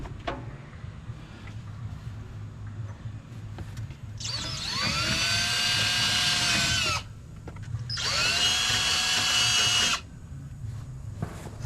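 A power drill drives a self-tapping screw into a truck body during reassembly after an engine swap. There are two steady whirring bursts of about three and two seconds with a short pause between, fairly close against a quiet background.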